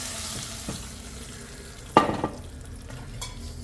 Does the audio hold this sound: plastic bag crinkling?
no